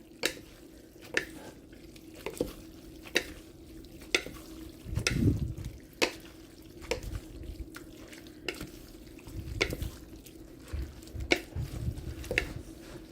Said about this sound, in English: Give this another mix to get that lime juice and cilantro all mixed in